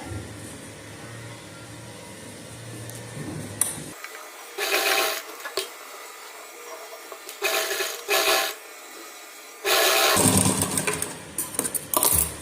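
Bursts of a sewing machine stitching the neck onto a suit, several short runs of fast needle chatter separated by pauses and quieter fabric handling, close by.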